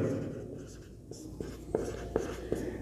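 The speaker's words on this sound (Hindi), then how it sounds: "तो सबसे पहले मैं लिखता हूं" Pen writing on paper during a Class 12 maths lesson on mathematical induction, a close, loud stream of scratchy strokes with sharp taps as lines finish.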